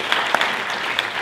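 Audience applause at a film festival Q&A, a steady wash of many hands clapping for about a second with a few sharper individual claps standing out.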